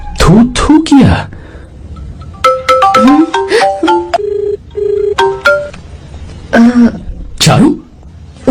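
A mobile phone ringtone plays a loud, melodic run of bright electronic tones in stepped patterns, with short vocal bursts like throat clearing or coughing before and after the ringing.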